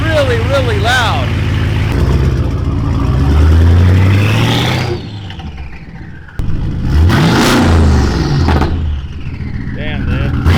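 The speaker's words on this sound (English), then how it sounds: "the turbo's so loud" A straight-piped, turbocharged BMW V8 with no catalytic converters revs hard and loud, roaring up and easing off in two long bursts with turbo whoosh, close by, while people talk and react between pulls.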